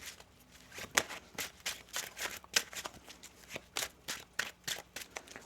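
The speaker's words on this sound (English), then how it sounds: "One more shuffle here" A tarot card deck is shuffled close up, giving quiet, rapid papery riffles and soft slaps in a steady rhythm.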